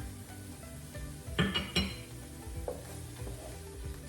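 Garlic sautéing in a pan for rice pilaf, giving a steady quiet sizzle with a couple of sharper clinks as a utensil stirs against the pan, close but fairly soft, with no one speaking.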